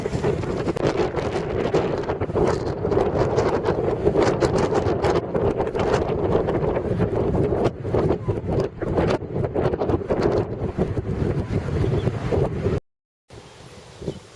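Strong wind at a mountain lookout on Oahu, Hawaii, buffets the microphone in a loud, continuous roar that gusts unevenly, then cuts out abruptly near the end before a brief quieter stretch.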